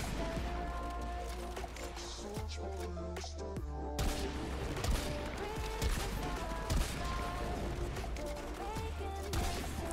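A Warframe primary weapon fires bomblets in a dense, busy game mix of repeated blasts, crashes and sharp impacts with constant background effects.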